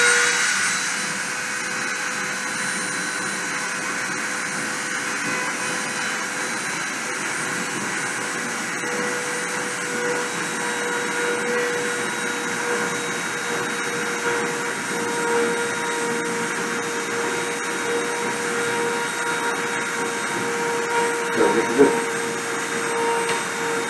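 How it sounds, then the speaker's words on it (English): A machine spindle runs during a deposition pass, giving off a steady, loud whirring drone with a constant tone that holds unchanged throughout. "I'm going to start the spindle and start the deposition"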